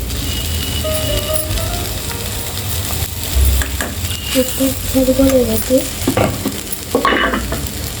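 Okra and coconut fry, Andhra style, is stirred in a hot pan after salting, giving a steady loud sizzle with scraping strokes and a brief faint voice in the background.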